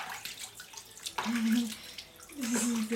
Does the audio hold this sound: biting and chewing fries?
no